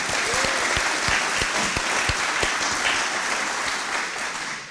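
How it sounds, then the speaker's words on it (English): Audience applause for the Rumpke team at a recycling and resource center groundbreaking celebration, a dense sustained round of clapping from a crowd that slowly tapers off. "Please join me in one more round of applause for the Rumpke team."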